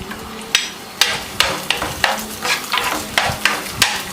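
Onions and green chilies sauté in a pan for mutton roast, with a utensil scraping and clacking against the pan in a quick rhythm. Each stroke is close and distinct over a soft, continuous sizzle.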